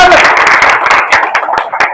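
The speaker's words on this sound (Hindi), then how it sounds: "एक बार इनके लिए जोरदार ताली।" Loud, close applause from the audience at a Bundelkhand statehood movement meeting in Harpalpur, a crowd of hands clapping in quick, uneven bursts with some voices mixed in.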